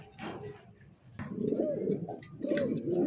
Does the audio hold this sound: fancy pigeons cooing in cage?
yes